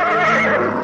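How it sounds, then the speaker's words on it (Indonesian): A horse neighs loudly and close by in a tense outdoor scene, one sustained whinny filling the moment with no talk over it. "Kuda ini meringkik terus dan ketakutan."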